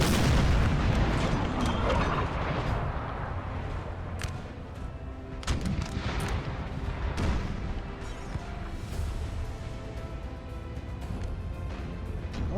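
Dense cannon and musket fire from a Napoleon Total War battle at Heilsberg: continuous layered gunshots and booming artillery reports, sharp cracks repeatedly cutting through a thick, loud roar of battle noise.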